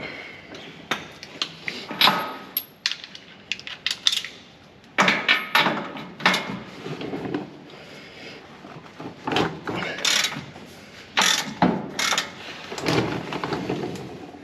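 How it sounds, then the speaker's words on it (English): A ratchet loosens the control arm bolts on a Toyota LC300 during a wheel alignment, heard as repeated close bursts of clicking and clanking metal with short pauses between them. "Just loosening off the control arm bolts from one side"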